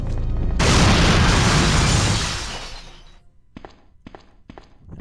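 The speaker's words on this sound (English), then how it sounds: "somebody just exploded" Explosion in the video game Resident Evil 3 Nemesis, a sudden loud, roaring blast that rumbles for a couple of seconds and fades, followed by a few sharp thuds.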